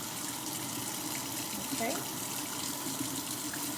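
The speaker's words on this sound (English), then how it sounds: "And then I will turn off this water." Water pours steadily from a tap, a continuous close rushing hiss that holds at an even level throughout, while a voice briefly says a single word over it.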